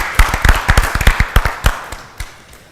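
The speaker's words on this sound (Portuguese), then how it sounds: "vamos aplaudir o nosso poeta!" An audience applauds a poet at an afternoon show, a short burst of fairly close, irregular hand clapping that thins out toward the end.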